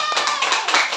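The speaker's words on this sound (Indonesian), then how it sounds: "Kasih tepuk tangan ke temannya." Elementary school pupils in a fourth-grade classroom clap for a classmate, heard as a brief, loud, close patter of many small hands, with children's voices mixed in.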